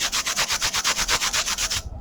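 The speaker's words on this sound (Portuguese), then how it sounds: "Eu vou com a lixa" Sandpaper scrubbing a cardboard heart shape, moved in quick, even back-and-forth strokes of about eight per second, close and loud, with the rubbing stopping at the end.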